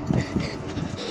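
A dog pants and whimpers close by in rapid breathy bursts during an outdoor confrontation over the dog on a property, with no talk over it.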